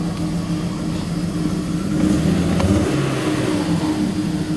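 A 1991 BMW 525i engine running slightly rough, a steady close mid-pitched drone that swells briefly as if revved, with no voices.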